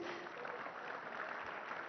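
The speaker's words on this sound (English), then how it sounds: "can we have one more loud cheer for the incredible champions?" An audience at a summit cheering and applauding for champions, a dense continuous wash of clapping and crowd noise, fairly distant and even in level.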